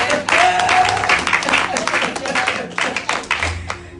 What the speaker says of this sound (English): put your hands together and give God a hand clap